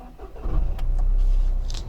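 A Toyota GR Yaris starts with a push of its button, the engine cranking briefly and catching into a loud, low rumble that settles near and steady, with a few faint clicks over it.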